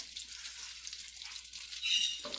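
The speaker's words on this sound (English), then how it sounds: "We're going to add all of our mushrooms, just the mushrooms." Mushrooms sizzle in a pan over medium-high heat, a steady, close hiss of frying that swells slightly toward the end, with no voices.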